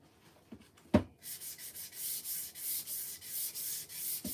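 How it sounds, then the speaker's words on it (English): Sanding with 400-grit sandpaper on a thrifted desk caddy, heard as steady rhythmic back-and-forth rubbing strokes, close and fairly loud, after a few light knocks at the start, with no talking. "I think this sandpaper is like 400 grit, so it's pretty smooth."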